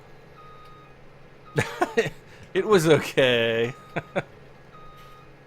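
A voice imitates the beeping of a truck reversing in Farming Simulator 17, a few close, buzzy vocal bursts with one longer held tone, mixed in with brief speech.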